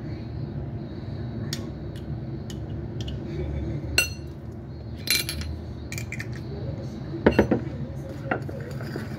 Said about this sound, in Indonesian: Setelah itu kita aduk hingga sampai semua tercampur rata.